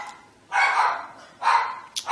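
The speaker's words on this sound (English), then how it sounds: "It's my dog going crazy." A dog barks twice close by with loud separate barks, followed by a short sharp yip at the end.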